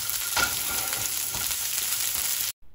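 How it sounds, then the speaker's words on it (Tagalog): Onion sautés in hot oil with garlic, a loud continuous sizzle with a few scraping stirs, ending abruptly in a short silence, with no talk. "At ngayon naman, ilagay na natin itong sibuyas na lagi nagpapaiyak sa ating mga mata."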